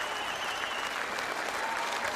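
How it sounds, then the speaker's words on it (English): A crowd at a 2014 Commonwealth Games lawn bowls men's fours gold medal match between Scotland and England applauds steadily, a dense continuous wash of clapping with no break. "Great scenes here, the crowd on their feet"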